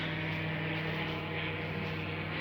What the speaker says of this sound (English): also this little airplane.